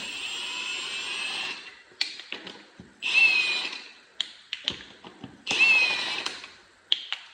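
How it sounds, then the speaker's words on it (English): Wheel fasteners on a Hutchinson M1288 GMV 1.1 wheel assembly being spun off with a 1-inch socket, likely a power tool: three whirring bursts with high-pitched rotation, separated by clanks, taps and small metallic knocks, close and moderately loud. "Use a 1-inch socket, and they come right off"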